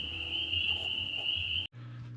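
Night chorus of frogs and insects in Quebec, a steady high trilling drone holding close and even, broken briefly near the end by a cut before a low hum resumes.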